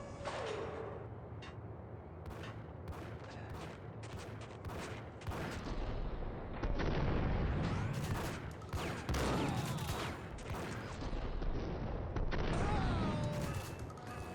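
Bursts of gunfire in the video game Max Payne come as rapid volleys of shots. They sound fairly quiet and distant, with the firing thickening in the second half.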